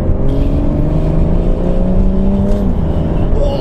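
A loud BMW M140i automatic engine rumbles close by with a droning exhaust note, crackling off throttle, its pitch shifting slightly as the throttle changes.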